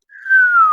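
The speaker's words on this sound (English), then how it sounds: "The other noise you need to find is the slide whistle." Short, loud, pure whistle tone, close and alone, gliding slowly downward in pitch the way a slide whistle does.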